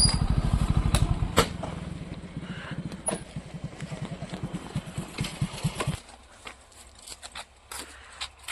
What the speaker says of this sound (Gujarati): આજે અમે ભાવનગર બાઇક લઈને જવાના છે